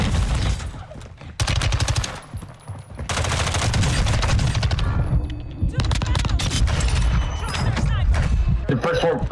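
Dense gunfire in the Call of Duty Warzone 2 video game: rapid automatic bursts and fusillades with thumps, loud and nearly continuous, while players talk over it.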